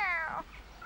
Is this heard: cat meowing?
yes